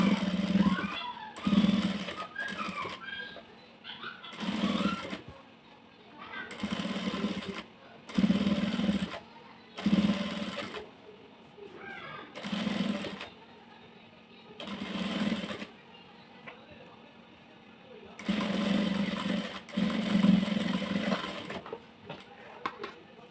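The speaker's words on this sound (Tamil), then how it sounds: "இப்போ அந்த எட்ஜுக்காக ஒரு ஸ்டிச்சஸ் போடணும்." A sewing machine stitches the edge of a blouse back neck in repeated short bursts of whirring, each run lasting about a second, separated by pauses, close by and moderately loud.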